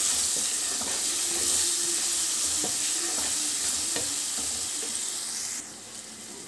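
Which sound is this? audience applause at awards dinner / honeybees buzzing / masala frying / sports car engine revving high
masala frying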